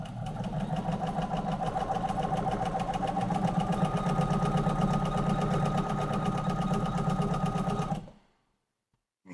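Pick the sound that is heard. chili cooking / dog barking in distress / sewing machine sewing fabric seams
sewing machine sewing fabric seams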